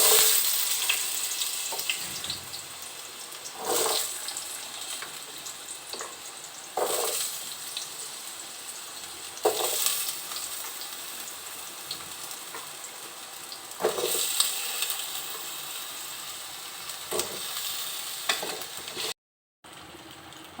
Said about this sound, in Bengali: এবার আলু পটলটা একটু ভেজে নেব।